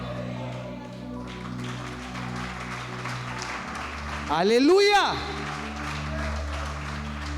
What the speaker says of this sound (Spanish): Dele ese aplauso fuerte a Dios